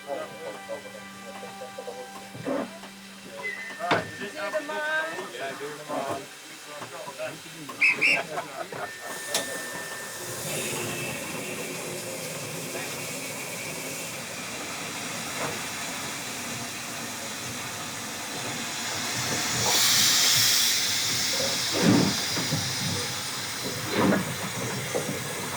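Jacobite steam train, in service for over 30 years, hissing steam beside a rail line in Scotland, a long rushing blast that swells loudly toward the end, with people talking nearby and scattered mechanical clanks earlier.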